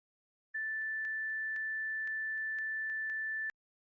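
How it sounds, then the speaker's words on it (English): A steady, clean 1760 Hz sine tone from an AD2 audio output plays alone for about three seconds, with faint clicks along it and silence before and after. "This is the second tone, 1760 Hz."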